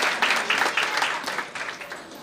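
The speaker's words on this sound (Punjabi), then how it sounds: "ਪਲੀਜ਼ ਸੁਨੀਤੀ ਜੀ ਲਈ ਇੱਕ ਵਾਰ ਜ਼ੋਰਦਾਰ ਤਾੜੀਆਂ ਪਲੀਜ਼ ਤੁਸੀਂ" Audience applause at the Chandigarh music launch of the Punjabi film Ardaas Karaan: dense, steady clapping from a crowd that holds strong, then tapers slightly toward the end.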